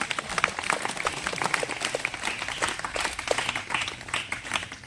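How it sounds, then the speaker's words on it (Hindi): An audience claps for young prize winners coming forward at a tribal rights orientation training event. The applause is a steady patter of many hands, fairly close and continuous, with no voices over it. "ताली बजा दीजिए इनके लिए"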